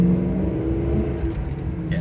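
A Mercury Marauder sedan's engine drones steadily while driving, a moderately loud, low rumble heard from inside the car with a slight rise as it accelerates.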